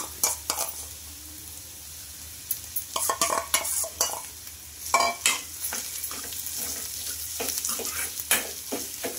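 Moong dal paste is stirred into frying onions in a pan: a continuous low sizzle with bursts of spoon scraping and clattering against the metal, close and without talk.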